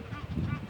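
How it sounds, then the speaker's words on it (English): Birds honk and call at a quarry beside a caravan park in Dundee, close and fairly loud, with repeated goose-like cries over a brief stretch. "Do you see that, birds?"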